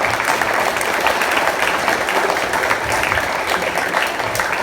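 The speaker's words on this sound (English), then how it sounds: "Let's give Mr. Fur, Mr. Blackwater, and Mr. Helms a round of applause." An audience at an evening gathering claps in a dense, sustained burst of applause, even in loudness across the whole stretch with no pauses.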